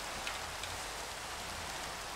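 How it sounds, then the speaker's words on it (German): Steady rain falls in the video game Minecraft, an even, close hiss of pattering drops that runs without pause and without voices. "Jetzt regnet sie natürlich voll rein."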